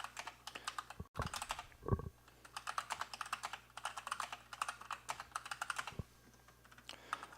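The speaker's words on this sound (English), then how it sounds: "while I'm typing all of these in" Steady computer keyboard typing of stock ticker symbols, bursts of rapid key clicks with short pauses, close and clear with no talking.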